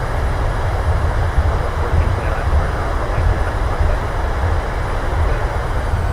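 Airliner thrust reversers roar after landing in Microsoft Flight Simulator, a loud, continuous, broadband rumble of engine noise that holds steady throughout.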